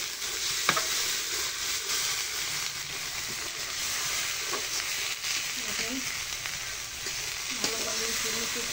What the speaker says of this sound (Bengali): আলুগুলো ভালো করে ভেজে নিচ্ছি।